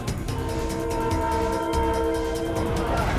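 A PNR passenger train rumbles past nearby in the Philippines with a loud, sustained horn blast over the rolling clatter of the cars.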